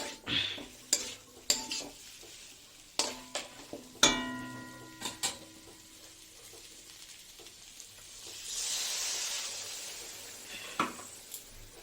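Fried spice paste with small whole onions for an egg malpua curry, stirred in a pan with sharp metallic scrapes and clinks, then a steady hiss swells as water is poured into the hot pan.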